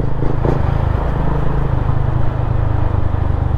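Motorcycles idle and rev in the right-hand lane at a night toll gate on the CCLEX expressway in Cebu, a loud continuous engine drone up close.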